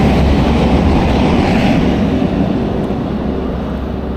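Steady broadband rumble of a train rolling along a nearby track beside a waterway, loud and continuous throughout with a slight easing toward the end.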